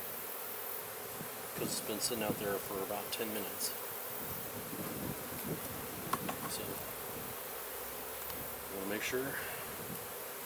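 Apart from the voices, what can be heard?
honey bees buzzing during honey harvest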